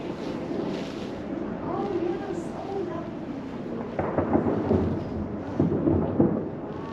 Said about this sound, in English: That is the ice breaking into the water.